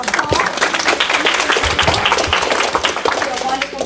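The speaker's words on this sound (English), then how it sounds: "Let's give them a round of applause" Audience applauding presenters at a morning session, a dense, steady wash of many hands clapping close and loud throughout, with voices mixed in.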